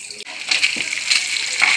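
Kitchen tap running to fill a pot with water for cooking pasta, a close bright gushing splash that keeps going for a couple of seconds, with a short knock at the start.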